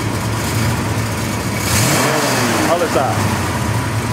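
A 1957 Black Widow classic car engine revs up loudly and settles into a deep, throaty rumble, with a brief spoken word over the idle.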